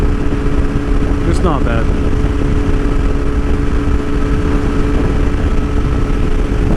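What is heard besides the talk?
motorcycle engine through new aftermarket muffler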